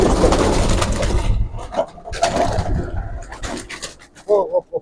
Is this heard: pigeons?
yes